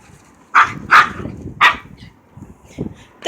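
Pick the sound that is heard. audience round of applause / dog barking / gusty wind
dog barking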